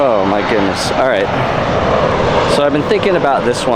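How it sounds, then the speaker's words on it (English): A fixed-wing airplane passes near an airport, a steady broad engine roar filling the background under continuous close speech from a man. "Excuse the airplane noise."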